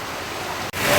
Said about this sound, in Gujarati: તમે જોઈ રહ્યો છો ધોધમાર વરસાદ આવી ગયો છે